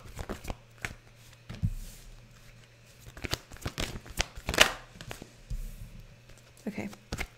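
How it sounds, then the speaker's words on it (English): Tarot cards shuffled by hand in a quiet room, with a string of crisp riffling bursts and soft slaps at uneven intervals, close and fairly quiet. "Let's pull your cards out first and then we'll talk about it"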